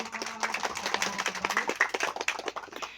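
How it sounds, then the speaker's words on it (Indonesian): A crowd claps at a birthday celebration, a dense, steady patter of many hands just after singing, held at a moderate level for the whole stretch. "Tepuk tangan"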